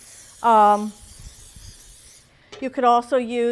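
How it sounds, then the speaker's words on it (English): Olive oil cooking spray hisses across a cookie sheet in a long, steady, close spray, with a voice breaking in briefly before and after. "To grease it, I'm going to use just a little olive oil spray here on it."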